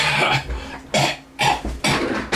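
Four harsh, broadband coughs in a row, close and loud, each a short burst with brief pauses between.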